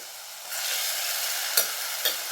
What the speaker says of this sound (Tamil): இப்போ வெங்காயம் ஒரு 2 நிமிஷம் வதங்கினதும் அரைச்ச தக்காளி.